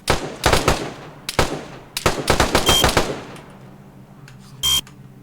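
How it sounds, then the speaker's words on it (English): Rapid bursts of automatic gunfire in the survival game DayZ, loud clustered volleys with short pauses, followed by quieter distant shots and a brief electronic beep. "I'm gonna have to shoot this guy"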